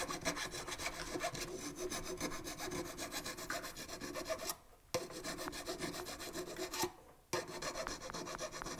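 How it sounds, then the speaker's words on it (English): A half round file rasps steadily over metal inside a ring, clearing excess material after sizing, with rapid repeated strokes that stop briefly twice before resuming. "I like to use a half round file to clean up the excess material"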